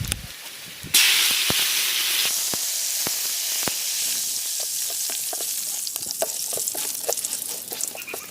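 Fenugreek, fennel seeds and curry leaves hit hot oil in a pan, a sudden loud burst of sizzling that settles into a steady close hiss with scattered pops and crackles.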